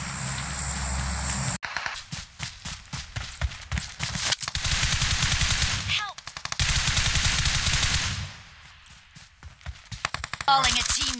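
Rapid bursts of automatic gunfire from the mobile battle royale game PUBG Mobile, loud and close, with repeated volleys separated by short pauses and a brief quiet stretch near the end; players talk over the shooting.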